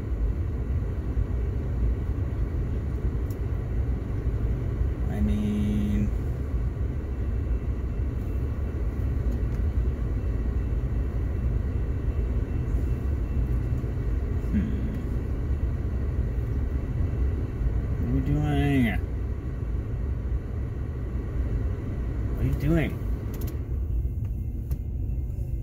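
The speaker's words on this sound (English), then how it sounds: "watch this train go by real slow" A steady low rumble drones throughout with occasional metallic squeals and creaks, like a slow-moving train rolling past nearby.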